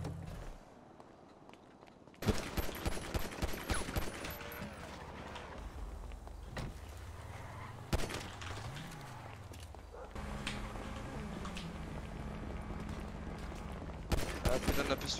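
Gunfire crackling during a GTA 5 roleplay session, with bursts of shots over a busy game soundscape and voices talking throughout.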